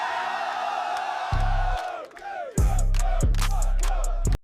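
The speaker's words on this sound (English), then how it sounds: "The crowd reaction is just wild." An AI-generated Veo 3 crowd roars and cheers loudly, with a dense wall of shouting voices that dips briefly, then surges back with bursts of yelling and whoops before cutting off abruptly.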